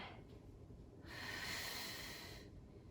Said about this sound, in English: Nice deep breathing into the twist